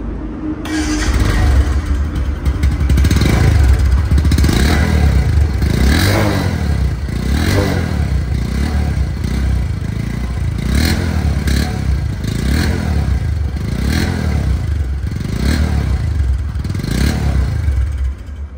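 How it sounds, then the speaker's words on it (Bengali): A Bajaj Discover 125cc motorcycle engine runs alone and close, its idle repeatedly rising and falling in rhythmic rev swells with a light mechanical clatter throughout. "তো এই বাইকটির সাউন্ড কোয়ালিটি শুনুন"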